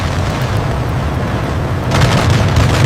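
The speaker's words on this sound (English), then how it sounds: "Morgan fires the Harrier's cannons, sending a stream of rounds toward the Skyhawk." Cannon fire from a British Harrier jet aimed at an Argentine Skyhawk during the Falklands War, a dense continuous roar of rapid rounds that swells louder toward the end, heard alone.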